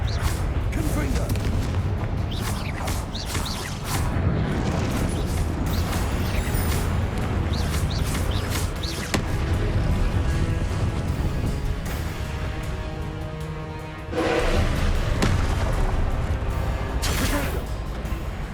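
A Confringo blast spell from Hogwarts Legacy bursts amid a steady roar of combat effects and booms, with one sharp blast standing out late in the stretch while a voice calls out spell names.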